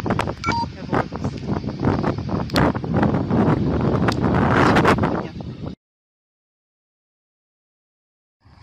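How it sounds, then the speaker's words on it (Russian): Strong, gusty wind buffeting the microphone at the stormy shore of Lake Senezh in rain and cold, a loud roaring rush with a few beeps, cutting to silence partway through. "Погода вот такая вот штормовая, дождь, сильный ветер, очень холодно"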